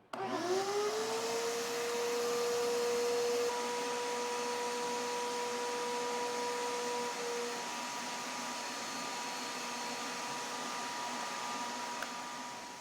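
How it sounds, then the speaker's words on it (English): A dust extractor vacuum hooked to a sanding block for car panel prep spins up with a rising whine, then holds a steady, close, droning hum with no talking. "we plug it right into here, and we are ready to extract dust right from the block"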